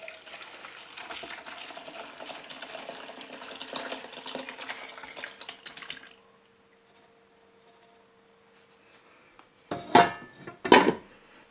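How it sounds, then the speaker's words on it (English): Beef burgundy liquid being strained off the vegetables, a continuous pouring, splashing rush for about six seconds that stops abruptly, followed by near silence and then two short clattering bursts of a pot or utensil. "I'm going to strain out the rest of the vegetables"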